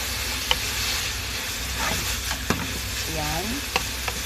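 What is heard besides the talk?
stirring burdock (gobo) sizzling in a frying pan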